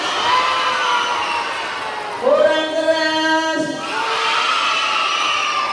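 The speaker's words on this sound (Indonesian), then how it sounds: "tepuk tangannya sambil bilang, yeay, tepuk tangan" Children at a Ramadan short-course storytelling session in a Quranic school clap together, then break into a drawn-out group shout of "yeay" before the clapping resumes; a voice speaks briefly.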